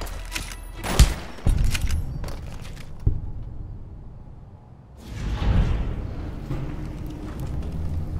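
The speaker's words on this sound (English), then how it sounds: "Who are you shooting at?" Gunfire in the game Fallout: New Vegas, with a few sharp, loud shots early on standing out over a rumbling game background, then a quieter stretch before a broad noisy swell returns.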